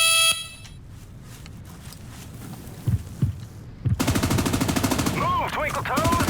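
Sustained bursts of rapid gunfire from live rounds in a US Army video game, loud and continuous after a brief quiet stretch, with a few sharp isolated shots before it and an electronic warble layered over the later bursts.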